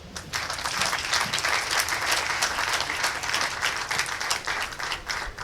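An audience applauds at the official launch of FINAB in Cotonou, a steady dense wash of clapping that holds at full strength for the whole stretch with no voices above it.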